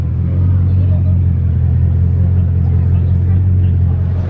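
A sports car arrives in a steady stream of traffic, its engine a deep, continuous low rumble held close and loud for the whole stretch, with a faint murmur of voices underneath.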